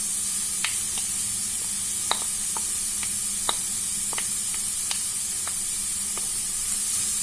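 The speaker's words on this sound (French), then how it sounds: "Je vais les faire revenir aussi." Courgette sautés in a pan with a steady, close sizzle broken by scattered sharp pops and crackles at irregular intervals.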